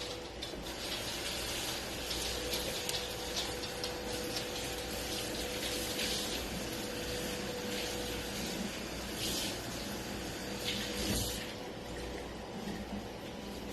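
Water runs steadily from a tap to rinse a freshly scrubbed cast iron pan: a continuous rushing, splashing flow that lasts throughout, fairly soft, with no talking.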